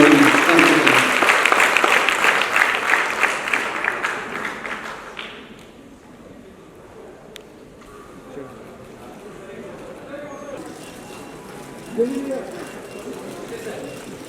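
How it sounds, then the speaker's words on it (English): Audience applause at an app launch event in a hall, a dense, loud wash of clapping over the first five seconds that then fades into quieter room murmur and scattered sounds. "I want all of you to give them a round of applause"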